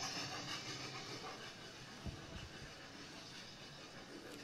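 A train rumbles past in a long, steady roar with faint hissing and a single clank partway through, fairly distant and without talk.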